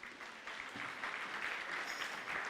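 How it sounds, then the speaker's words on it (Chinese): A church congregation claps during a Christmas praise service, a steady burst of applause that swells after the first half second and holds at a moderate level to the end. "拍手给他们鼓励一下。"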